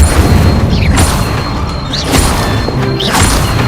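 Incendio fire spell cast repeatedly in the video game Hogwarts Legacy: three crashing, booming bursts about a second apart over a dense, steady game background.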